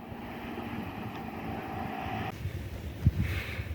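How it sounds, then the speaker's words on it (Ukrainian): A motorboat engine hums steadily in the distance on a river, then fades as its wake sloshes and laps nearby with a few small splashes. "а це ж моторна лодка проїхала і там як хвилі пішли"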